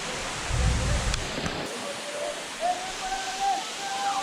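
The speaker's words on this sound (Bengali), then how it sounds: "ঝর্ণায় অনেক বেশি পানি।" Rishang waterfall in Khagrachhari swollen with rainy-season water, a steady broadband rush of falling water close by, briefly louder near the start, with faint voices in the background.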